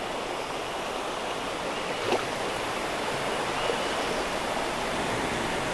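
Swift river water rushes in a steady, loud, broadband wash that runs unbroken throughout, with no voices.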